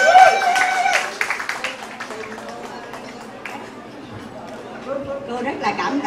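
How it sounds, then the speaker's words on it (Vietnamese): Scattered hand clapping at a party, honoring a woman named Xuân Phương, with a burst of claps in the first seconds mixed with voices and chatter that carry on as the applause thins out. "Một tràng pháo tay cho Xuân Phương."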